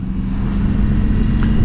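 BMW R1200GS motorcycle riding on an Alpine tour, a steady low engine drone with wind rumble heard close up from on board, no talk.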